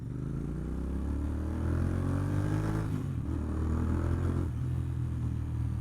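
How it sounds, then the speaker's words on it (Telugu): A motorcycle revving in a narrow lane, a deep, steady rumbling engine drone that swells slightly as the throttle rises, close and loud with no talk. "గల్లీలో లాగితే బైక్ సౌండ్ వస్తుంది"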